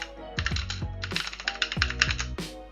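Quick bursts of keystrokes on a computer keyboard, close and clear, with short pauses between clusters of clicks.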